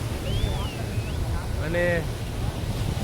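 Waves roll onto Miramar beach as a steady wash of surf under wind, with a person talking and a thin whistling tone drifting through.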